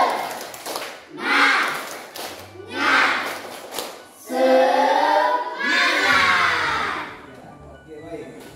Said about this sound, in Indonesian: Sekali lagi tepuk semangat. Tepuk semangat.